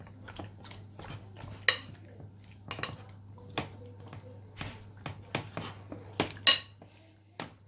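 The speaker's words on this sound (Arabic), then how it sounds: "غادي نخلط هاد العناصر كلها مع بعضياتها" Marinade ingredients for chicken wings being mixed in a bowl, irregular clinks and scrapes of a utensil against the bowl over a low steady hum, close and intermittent, with no speech.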